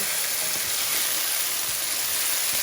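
Celery sautéing with onions in a pan for beef soup, a steady close sizzle and crackle of frying with faint stirring, no talking.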